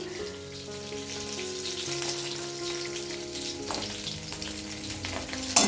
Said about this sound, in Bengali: আজকে মাছ ভাজা আর পটল তরকারি করব